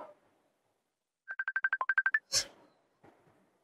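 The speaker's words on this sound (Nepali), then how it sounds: "तेरो कसको फोन आएछ यो?" An incoming call rings out as a mobile phone ringtone: a quick run of about eleven bright, evenly spaced electronic beeps, followed by a short burst of noise and a fainter sound, fairly quiet overall.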